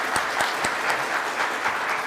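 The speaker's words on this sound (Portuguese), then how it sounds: "Peço uma salva de palmas para ele." An audience at a business talk on receivables securitization applauds to welcome a speaker onto the stage: continuous, even clapping from a roomful of people with a few sharper nearby claps standing out.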